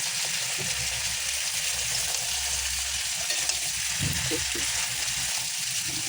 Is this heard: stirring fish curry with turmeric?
yes